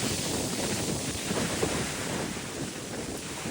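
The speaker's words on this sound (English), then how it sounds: "It is still windy." Strong wind on a beach in Mallorca buffets the microphone with a constant rough roar and gusty rumble, no voices present.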